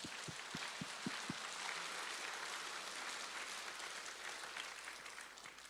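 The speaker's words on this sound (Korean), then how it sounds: "우리 부모님께 감사의 박수 올려드리겠습니다." A church congregation applauds in thanks to their parents during a sermon, a broad steady wash of clapping that stays even and loud throughout before easing slightly at the end.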